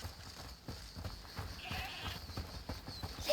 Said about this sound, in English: Listen. Is that the goat you talked about?